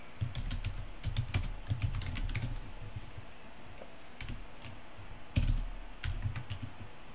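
Typing on a computer keyboard during a parallel programming class: irregular bursts of light, close key clicks with short pauses, no voices.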